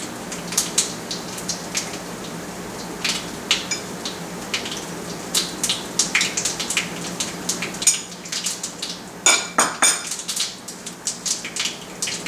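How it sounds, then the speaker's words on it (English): Mustard seeds pop and crackle in hot oil in a pan, scattered sharp ticks with a few denser bursts over a faint sizzle, close and fairly quiet with no talking. "good sound of mustard popping"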